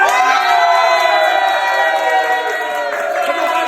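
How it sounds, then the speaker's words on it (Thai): Loud crowd cheering and shouting at a concert at MAYA in Chiang Mai, a dense sustained roar of voices with whoops and some applause mixed in. "วันนี้ขอเสียงปรบมือดังให้กับชาวเชียงใหม่"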